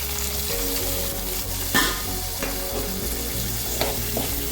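Shallots with curry leaves frying in oil for an elephant yam masala fry, a constant close sizzle broken by several scraping spatula stirs, clear and moderately loud without any talking.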